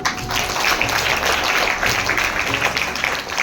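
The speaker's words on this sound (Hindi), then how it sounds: "बढ़िया के लिए ताली बजाओ" Schoolchildren at a Guru Purnima celebration at Saraswati Shishu Mandir in Pansemal clap together in a steady, dense round of applause.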